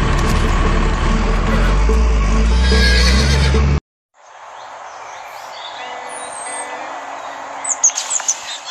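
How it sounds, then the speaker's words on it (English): A horse neighs loudly and up close, a long whinny breaking off abruptly, then after a brief pause fainter hoof clip-clops and birdsong continue in the outdoor background. "Come on, that's my horse!"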